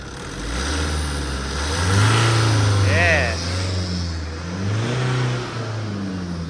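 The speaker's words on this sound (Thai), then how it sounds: "เบิ้ลหน่อย" A long-parked Tata car that would not start, running again after a wiring harness replacement, its engine revved in rising and falling swells over a steady idle rumble, close and loud.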